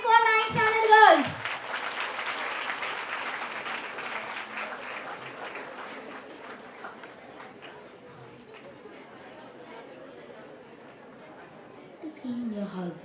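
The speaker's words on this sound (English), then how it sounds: "A huge round of applause again for 9th standard girls." A large audience at a school annual day claps and cheers, the applause holding steady and gradually thinning, with a voice briefly audible at the start and chatter near the end.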